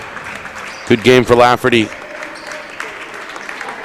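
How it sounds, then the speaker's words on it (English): Crowd at a high school basketball game gives a round of applause, a soft spread of clapping running under a commentator's voice and continuing faintly after he stops. "Meanwhile, a round of applause."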